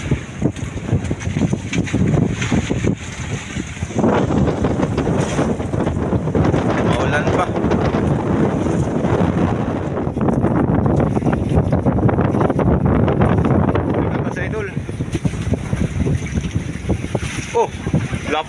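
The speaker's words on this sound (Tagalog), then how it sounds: "Yan, lalakas ng hangin, oh." Strong wind buffets the microphone in heavy, continuous gusts, roaring over faint water sounds with brief moments of easing.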